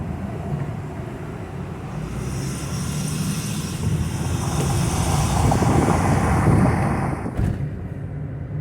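Heavy city traffic in Chicago during a heat wave: a continuous broad roar of engines and tires that swells gradually louder, then eases after a brief bump, heard from close by without any talk.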